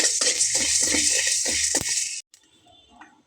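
Fennel seeds fry in a hot kadai over a low flame, giving a dense, close hiss dotted with rapid crackles that stops suddenly, leaving quiet faint rustling.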